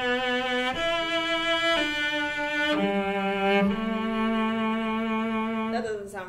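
The Swan by Saint-Saens is played on a bowed string instrument as a sustained melody of long notes with slow, exaggerated vibrato, the tones sliding between pitches. The instrument is heard alone, close and clear.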